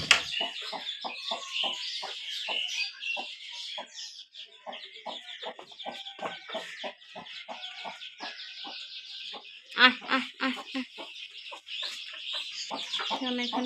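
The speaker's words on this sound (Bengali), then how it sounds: "আমি এখন কোয়েল পাখিগুলো বাইরে বের করে নিয়ে যাব।" Pet quail in a rural Bangladeshi village morning chirp and cluck in quick, repeated bursts throughout, fairly close, with a denser flurry of calls near the middle and no talking.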